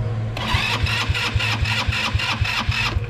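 A Helix 150 go-kart engine cranks over with starting fluid, giving a rapid, even chug of about a dozen compression beats over a steady starter whir, close up and loud.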